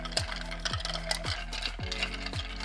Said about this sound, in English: And while I'm stirring